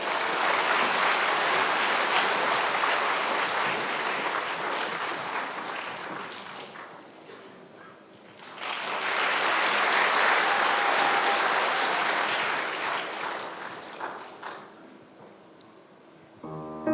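Sustained audience applause fills a large hall at a winter camp gathering, welcoming a soprano and baritone duet; the clapping dips briefly midway, then swells again before fading.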